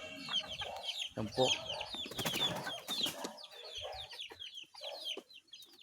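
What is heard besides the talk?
pet chicks clucking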